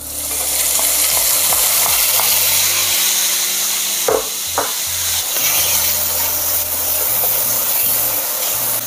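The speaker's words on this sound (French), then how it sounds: "Notre poêle est chaude, on va venir faire rissoler et colorer notre bacon." Bacon sizzling and browning in a hot pan, a loud steady frying hiss with occasional stirring and scraping of a utensil, no talk.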